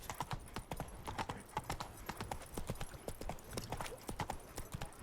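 Rapid, rhythmic hoofbeats of the horse Roach galloping in The Witcher III, steady clip-clop strikes at close range with light ambient game sound beneath.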